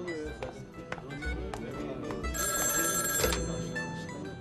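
A telephone rings in a Turkish TV comedy scene, its bright bell bursts sounding over background voices and scene noise, with one sustained ring clearly standing out near the middle.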